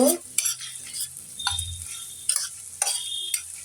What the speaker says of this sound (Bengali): একটু লেড়ে ভাজা ভাজা করে লাল করে নেব